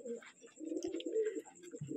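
Pigeons coo softly and steadily at a Bengali pigeon farm, low throaty cooing continuing through the whole stretch with faint chirps above, fairly quiet with no talking.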